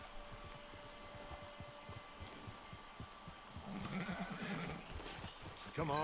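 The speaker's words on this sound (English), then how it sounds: "It's your horse." In Red Dead Redemption 2 Online, a horse's hooves clop softly in an irregular rhythm and a whinny rises near the end, all under game dialogue and someone talking.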